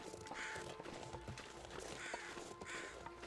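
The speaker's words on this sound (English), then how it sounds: "obviously we get the crow's noise" Crows caw in the winter survival game The Long Dark, several harsh calls repeating at a moderate distance over a steady windy game ambience, with no talking.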